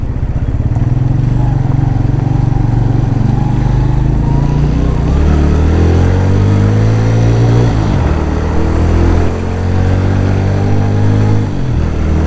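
A motorcycle engine drones steadily and loudly while riding on a road leading out of Skardu, the pitch shifting as it changes speed, with no voices.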